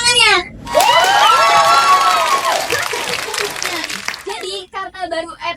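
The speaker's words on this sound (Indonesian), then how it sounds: "Mana tepuk tangannya?" Junior high school students shout and cheer loudly with scattered clapping, a rising crowd roar that fades into lively chatter and a voice.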